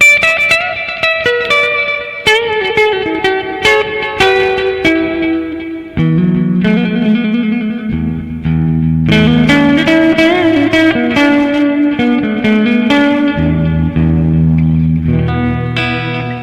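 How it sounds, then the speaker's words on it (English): An overdriven electric guitar on its middle pickup, slightly out of tune, plays picked notes and then chords, with a warm, slightly gritty tone and a trailing reverb. "It's got a nice overdriven sound with this pickup."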